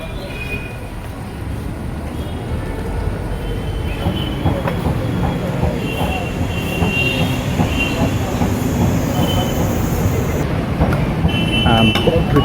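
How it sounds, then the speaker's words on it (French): A train standing at a station platform and about to depart, with the level-crossing barriers lowered: loud rumbling and clattering, high metallic wheel squeals, and busy background noise throughout. "Le train est à quai, il va partir."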